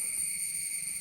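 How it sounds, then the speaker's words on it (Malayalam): A cricket chirping outdoors, a steady high shrill trill with bright sustained tones, continuous and fairly close for the whole short stretch. "കരയുന്ന സൗണ്ട് കേട്ടോ? ചീവീട്"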